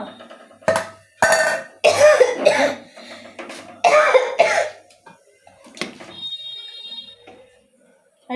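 Several harsh coughing bursts from fumes while frying food, close and loud, separated by short pauses, with a faint electronic beeping tone lingering toward the end.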